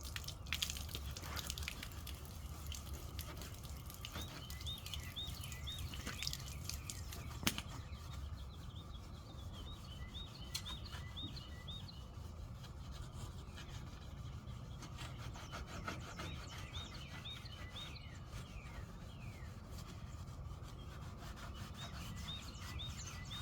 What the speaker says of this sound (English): Now I'm going to sand the red back here on the quarter panel.